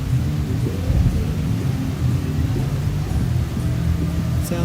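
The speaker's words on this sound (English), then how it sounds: "Hear the wind blowing through all the trees." Wind rushes through a stand of trees in a steady, loud, roaring wash of noise, a low rumble that swells and eases without pause and sounds almost like rain or a rushing river.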